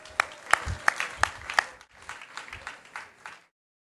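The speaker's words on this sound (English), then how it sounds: "let's give ourselves a round of applause" A small audience at a city State of the City address claps, with a handful of sharp, distinct claps over scattered applause that fades out after about three seconds.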